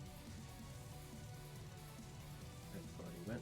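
Rain weather effect from the Pokemon Storm Silver video game hisses as a soft, steady patter of rain at low level, with faint game tones underneath.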